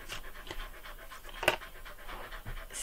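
A dog pants quietly nearby in a calm indoor setting, a soft rhythmic series of short breaths repeating about twice a second at low volume.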